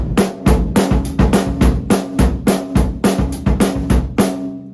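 An acoustic drum kit plays a simple groove: punchy kick, crisp snare backbeat and driving cymbal hits in a steady, even rhythm, solo with no talking.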